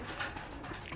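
Pigeons cooing inside an abandoned building, a brief, muffled burst set in a wash of background noise.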